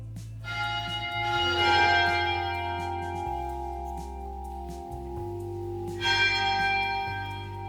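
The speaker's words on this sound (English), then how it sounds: "the bells tolled on the quarter hour" Church bells in an Icelandic city toll the quarter hour: sustained, ringing metallic tones with strong overtones, a couple of louder strikes near the start and another later, each decaying slowly over a low steady hum.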